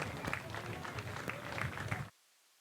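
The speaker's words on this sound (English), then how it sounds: "Here's some clapping." Stadium crowd clapping and cheering during a college football game, a steady dense wash of applause for about two seconds that cuts off abruptly into near silence.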